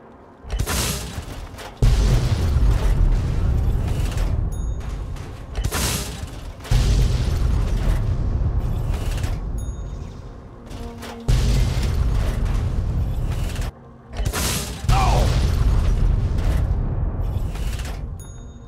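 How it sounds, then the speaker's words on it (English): Repeated Fat Man mini-nuke blasts in Fallout 3, a series of loud, heavy booms about every few seconds, each a broad roaring burst that decays into rumbling debris before the next detonation, with no talking. "Once I accounted for the projectile trajectory of the Fat Man, that behemoth took far too many nukes to kill."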